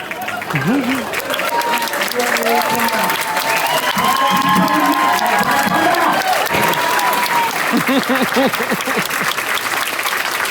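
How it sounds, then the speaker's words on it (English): A premiere audience applauding at length, dense continuous clapping with cheers and whoops, while voices talk over it near the microphone. "Don't make these poor people applaud that long."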